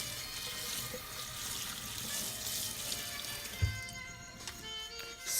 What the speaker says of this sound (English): Drain it out and rinse with cold water.